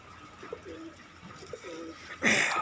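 Pigeons coo softly at close range in a few low, rounded phrases, followed by a brief louder rustle near the end; no one speaks.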